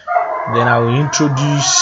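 A pet dog vocalizes indoors in a home, its yelps and whining, howl-like cries running continuously beside a man's speech over a nearby computer setup.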